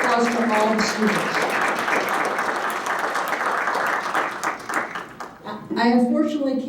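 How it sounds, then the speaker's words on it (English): Audience applause for students at an award announcement, a steady broadband wash of clapping filling the hall, with a voice speaking over it at the start and again near the end. "We have a round of applause for all the students."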